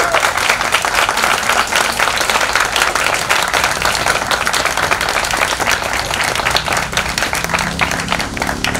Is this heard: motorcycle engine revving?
no